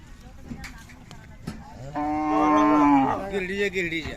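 A young Khillar bull lows at a village fair with one long, loud, drawn-out moo that rises and then falls, following softer background sounds from the crowd.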